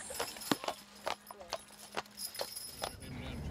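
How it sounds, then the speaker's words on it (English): A grey Shire horse in harness trots on a road through a puddle, giving a near, uneven series of hoof clops and wet splashes, with a low hum beneath and a voice speaking alongside. "Quest will cross over to the other side of the road and trot happily through this puddle"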